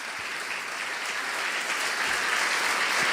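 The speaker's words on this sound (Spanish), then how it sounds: "le dan un aplauso al Rey en esta tarde" A church congregation gives sustained applause during a sermon, a dense, even wash of clapping that grows slightly louder toward the end, with no talking over it.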